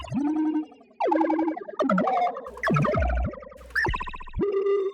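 Synthesized sci-fi laser zaps built from filtered noise with a sweeping filter, a run of about six pitched, resonant bursts that swoop up and down in quick succession, loud and close with no talking.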